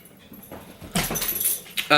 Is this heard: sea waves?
no